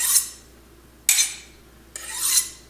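A kitchen knife blade is drawn through a sharpener in three rasping, gritty strokes, each swelling and fading, close and loud against a quiet background.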